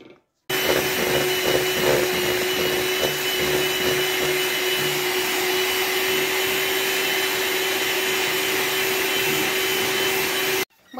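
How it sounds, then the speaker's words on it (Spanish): An electric hand mixer whirs loudly and steadily as it beats dough for chocolate alfajor cookies, with a constant motor hum and faint rhythmic variations from the beaters, starting and stopping abruptly. "Primero mezclamos con una cuchara para que no se vuele y después ya batimos con la batidora."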